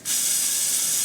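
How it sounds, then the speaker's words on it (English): A single steady hiss of WD-40 sprayed from an aerosol can onto bolts during a Nissan Frontier neutral safety switch repair, one continuous burst of about a second, close and loud with no talking. "I would definitely put some WD-40 on these."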